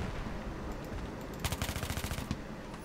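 An MTAR-21 assault rifle in Battlefield 3 fires one rapid automatic burst of about a dozen evenly spaced sharp shots, close and loud, with no talking.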